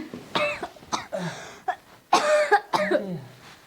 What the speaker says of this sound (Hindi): नहीं बाबू खांसी आवत रही